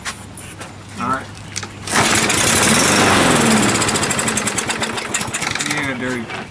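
A push lawnmower with a dirty carburetor is pull-started: a brief rattling cord pull, then the small engine sputters into a loud, rough, uneven run that gradually settles into a pulsing chug, with people talking nearby.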